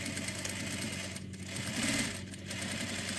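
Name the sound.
sewing machine sewing and back tacking a fabric face mask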